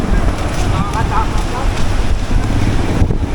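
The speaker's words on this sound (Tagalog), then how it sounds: "lakas ng hangin dito" Strong wind gusts across the microphone by the water, with a loud, continuous rushing roar and muffled voices in the background.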